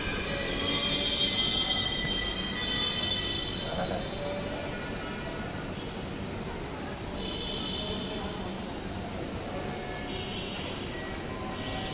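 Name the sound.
Dhaka Metro Rail train running at night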